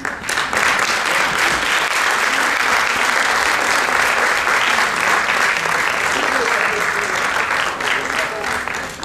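Sustained, loud audience applause greets saz musicians taking the stage at a Turkish music concert, a dense continuous clapping wash for the full stretch with a faint voice mixed in.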